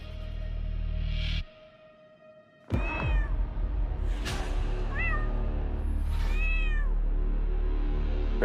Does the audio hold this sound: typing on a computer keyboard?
no